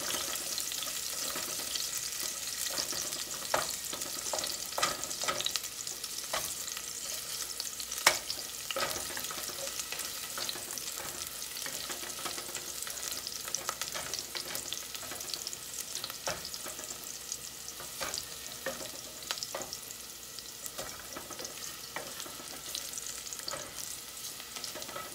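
Garlic sautés in a pan for ginisang kalabasa, a steady soft sizzle with frequent scraping stir strokes, fairly quiet and close, with no voices.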